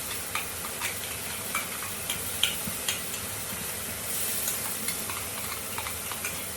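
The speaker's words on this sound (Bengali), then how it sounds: "একটা পেঁয়াজ, টমেটো আর কাঁচা লঙ্কা পেস্টটা আমি দিচ্ছি এখন।" An onion, tomato and green chili paste sizzles and fries in hot oil while a spoon stirs it, giving steady broadband crackle with soft periodic scraping clicks and a brief steamier hiss near the end; no one speaks.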